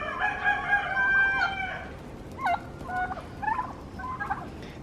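Turkeys gobbling and clucking outdoors as they are let out, a crowing rooster mixed in, several close calls in short bursts over a faint background hiss.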